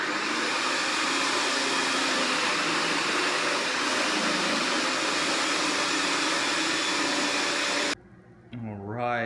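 A blender whirs loudly and steadily, breaking down kraut sauce ingredients such as papaya, turmeric and black pepper in apple cider vinegar, then cuts out abruptly near the end.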